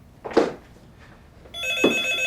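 A landline telephone rings partway through with a bright electronic tone that keeps going to the end, after short bursts of voices.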